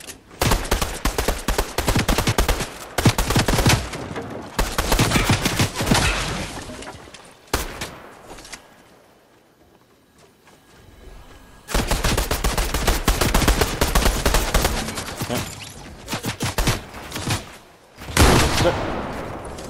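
Video game gunfire in Fortnite: long bursts of rapid automatic shots and heavy single blasts, loud and close, broken by a quiet lull before more dense firing resumes.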